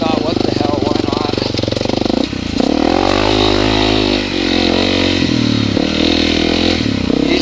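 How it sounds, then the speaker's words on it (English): Honda CRF250L dirt bike engine running loud and close with a steady throbbing idle and rising revs, under a talking voice throughout. "I usually don't ride this bike out here"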